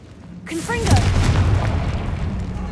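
A Confringo fire spell bursts in Hogwarts Legacy, a loud booming blast with a rumbling tail that lingers for a couple of seconds after a short swoosh; a voice is heard around it.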